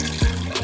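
Milk pours from a container into a pot in a home kitchen, a short splashing gush with a brief burst near the start, close and alone.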